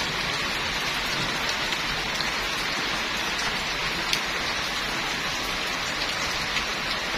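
Heavy rain pouring down in a dense, steady hiss with scattered drips on surfaces, continuous and close, without any voices.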